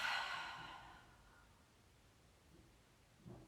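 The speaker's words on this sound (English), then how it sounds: "Exhale it out." A slow, audible exhale during a yoga stretch, breathy and close at the start, then trailing off into near silence with a soft faint breath near the end.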